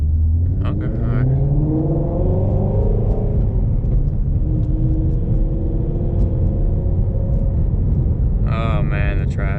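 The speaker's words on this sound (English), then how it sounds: "Oh man, the traffic." Heavy road traffic rumbles steadily throughout, with a car engine droning and shifting pitch up and down nearby, and a brief burst of higher sound near the end; a person talks over the noise.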